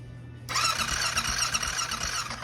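A failing engine cranks over without catching, a continuous harsh whirring churn with a faint squealing edge that kicks in suddenly, loud and close with no speech.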